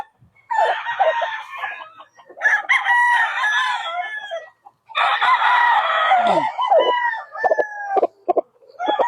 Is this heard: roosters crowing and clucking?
yes